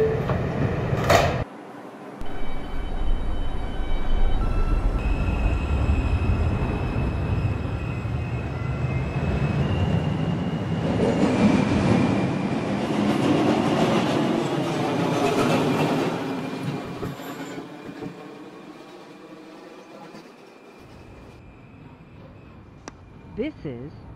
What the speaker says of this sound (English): This is a Bronxbound 1 train.